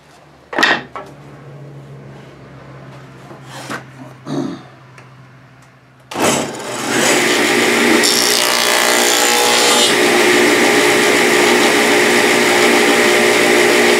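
A few knocks and handling clunks come first, then a tenoner's cutter starts up with a sharp bang and runs as a loud, steady whine while widening a dado in a wooden piece to fit a runner.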